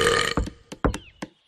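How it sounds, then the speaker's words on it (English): A cartoon female burp rolls out as a few short, croaky belches in quick succession, close and fairly loud, after a brief moment of sound at the start. "That was my celebration burp."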